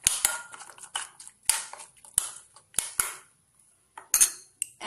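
Bitter gourd being mixed with mustard oil, turmeric and salt in a metal dish: scattered clinks and scrapes of a spoon against the dish, with a few louder taps and quiet gaps between them.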